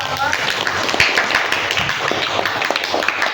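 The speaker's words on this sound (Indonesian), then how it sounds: "Tepuk tangan untuk Ivansa." Short burst of classroom clapping from students during a geography lesson, close and busy, with talk over the top throughout.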